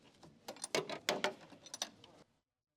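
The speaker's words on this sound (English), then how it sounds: "Use a 17mm wrench to remove the upper shock absorber mounting bolt and nut." Metal clicks and ratcheting from a 17mm wrench loosening the upper shock absorber mounting bolt and nut on a 2013 Jeep Wrangler JK, a run of close, irregular bursts that stop abruptly.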